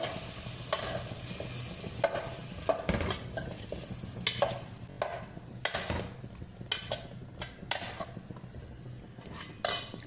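Kadachakka (jackfruit) thoran is stirred in a pan: a spoon scrapes and clinks against the metal in uneven strokes over a soft, ongoing sizzle.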